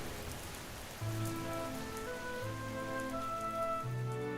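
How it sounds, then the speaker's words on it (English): Steady heavy rain hisses throughout, with soft sustained musical tones drifting over it; no voices. "standing in the downpour, was a young woman"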